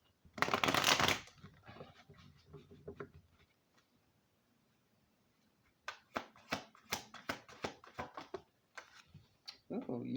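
Oracle cards being shuffled close up: a loud riffling burst at the start, then a quiet stretch, followed by a run of quick sharp card slaps and flicks, with a voice faintly present.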